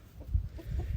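A roughly four-year-old tom turkey lets out a quick series of low, throaty clucks close by, packed into about a second.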